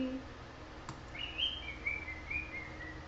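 A small bird gives a thin, drawn-out whistling chirp indoors, faint against room noise and a quiet voice.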